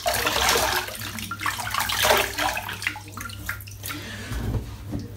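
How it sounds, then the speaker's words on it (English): A tap runs for shaving lather, a close, gushing splash of water that surges loudly at the start, eases, then swells again near the end. "Good splash of water."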